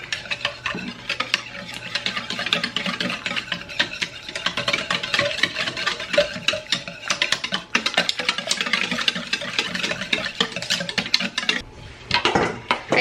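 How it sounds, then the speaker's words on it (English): Melted butter being stirred into batter in a bowl, a steady, fast scraping and clinking of a utensil against the bowl, close and continuous for most of the time. "I'm going to just go on and stir this up"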